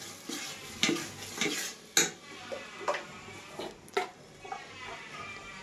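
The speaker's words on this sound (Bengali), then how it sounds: "এইভাবে চলাবো হালকা ভাবে।" Biryani stirred lightly in a cooking pot, a spoon scraping and clinking against the metal in about nine soft, irregular strokes over a quiet background, with no talk.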